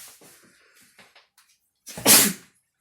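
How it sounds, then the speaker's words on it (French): A single loud sneeze bursts out close by after a stretch of quiet breathy sounds, sharp and explosive before trailing off. "Ah, je vais encore éternuer."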